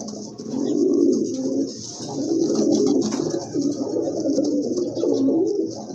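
Lahori pigeons cooing at close range, with repeated low throaty coos in rolling phrases and short pauses between them, and no talking.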